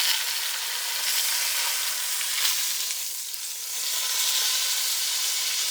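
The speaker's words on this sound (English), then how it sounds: "searing my meat" Meat searing in a Le Creuset Dutch oven for pot roast, a steady, close, bright sizzle with crackling spatter that dips briefly midway and then swells back, with no voices.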